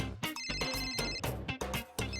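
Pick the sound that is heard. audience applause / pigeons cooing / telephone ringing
telephone ringing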